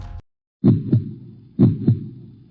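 A heartbeat sound effect gives two deep lub-dub thumps about a second apart after a brief pause, loud and close, with no talking.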